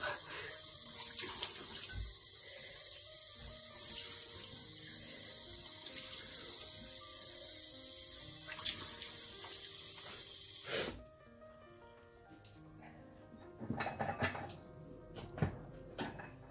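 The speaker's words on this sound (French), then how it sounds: "je vais simplement rincer à l'eau mon visage" Running water from a sink tap as someone rinses their face during a morning skincare routine, a steady close splashing flow that cuts off abruptly partway, followed by quieter drips and small water sounds.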